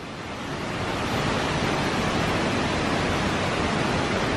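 A small stream flowing near a cave, a steady dense broadband rush of running water, loud and close, swelling in over the first second and then holding constant without voices.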